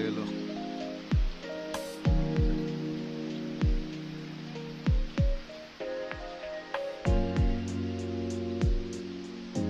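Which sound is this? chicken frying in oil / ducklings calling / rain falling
rain falling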